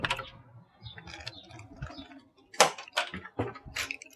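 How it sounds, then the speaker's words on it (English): A bunch of keys is handled, giving irregular metallic jingles and clicks, soft at first, then sharper, louder clusters of jangling near the end, close by. "These are my jangly keys."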